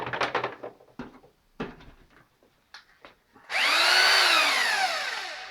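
A few knocks and clunks of handling come first, then an old Bosch UBH 2-20 SE rotary hammer drill starts up close and loud, whirring steadily for about two seconds before winding down.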